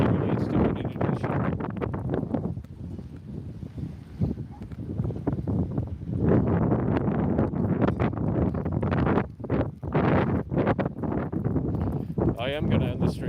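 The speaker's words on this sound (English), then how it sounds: "It's too windy. Can't even hear myself." Heavy wind buffets the microphone in loud, uneven gusts that roar and drop away, with a person speaking underneath.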